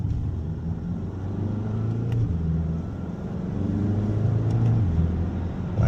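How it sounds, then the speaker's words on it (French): An Audi A1 40 TFSI pulls hard in sequential mode with paddle gear changes, its engine rumble building steadily from inside the cabin, dipping briefly between gears before rising again, with no one speaking. "Ouais, ça accélère plutôt bien"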